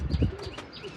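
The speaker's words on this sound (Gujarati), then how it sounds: "હજી 1-2 કબૂતર આપણે વાં બેઠા લાગે" Pigeons coo, low and breathy, in short repeated phrases that are loud and close, with rustling around them.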